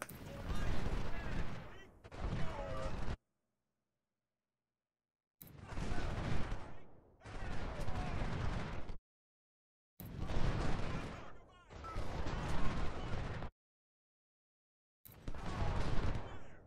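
Musket volleys and artillery fire from the Ultimate General: Civil War video game at the Chancellorsville battle: dense, loud, crackling bursts of gunfire in several long stretches, separated by brief silent gaps, with no talking heard.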